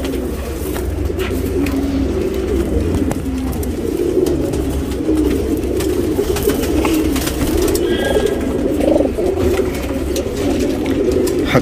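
Tournament pigeons in a loft in Bangalore, India, coo steadily in a low, throaty rolling murmur, several birds overlapping close by with no talk over them.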